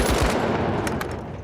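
A rapid, loud burst from the Lewis gun in The Finals, its dense, rattling shots running together into one continuous stream of close gunfire with no voices.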